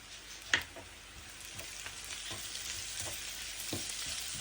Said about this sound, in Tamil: வெங்காயம் வதங்கி வருது